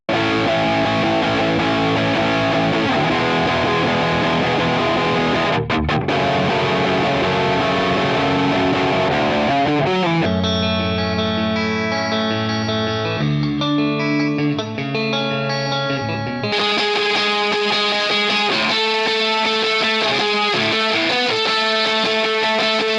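Heavily processed guitar tones from amp and effects plugins play loud and continuous, shifting from distorted, chorused chords to cleaner, echoing, reverb-soaked passages, with no talking.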